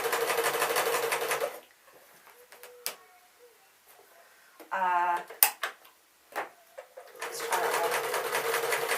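Sewing machine stitching a pink dress, running in two loud steady bursts at the start and end, with quiet handling noises and brief talk in the pause between them.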